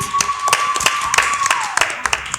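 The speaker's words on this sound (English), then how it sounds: "A great round of applause to LFIM." Audience applause for a quiz team at a knock-out competition: scattered, sharp claps from a small group, uneven and close, with a steady tone and some voice sounds running underneath.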